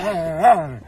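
A dog lets out a short, whining yelp that rises in pitch and then falls away, heard close and fairly loud in a single brief burst.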